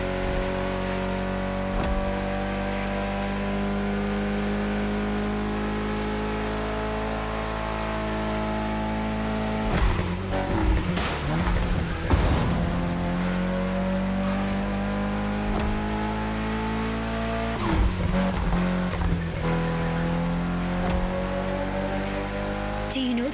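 A Mitsubishi Evo X engine roars continuously through a race in The Crew Motorfest, a loud sustained drone with pitch sweeping up and down through gear changes, broken by bursts of scraping impacts and tire noise.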